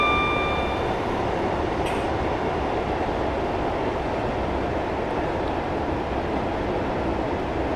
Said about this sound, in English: I'm now going to apply the brakes to slow down for the 50 speed limit